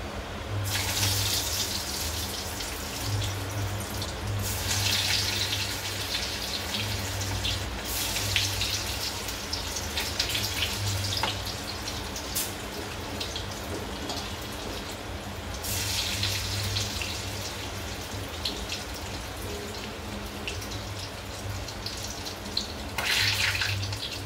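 Rain falls in the background while corn fritters fry in hot oil, a steady wet hiss that swells and eases in waves, with no voices heard.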